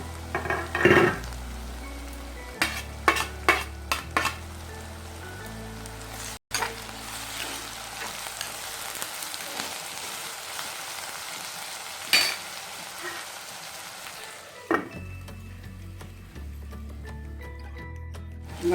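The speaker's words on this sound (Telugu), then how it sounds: "మధ్య మధ్యలో ఉల్లిపాయని ఇలా కలుపుకుంటూ ఉండాలి, బాగా మగ్గాలి." Spring onions frying in a clay pot while being stirred, a crackling sizzle under repeated scraping and knocking of a spoon, close and fairly loud, with a few sharper clinks along the way.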